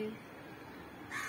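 A crow caws outdoors in a leafy garden setting, one or two short harsh calls over a faint background hum, fairly distant.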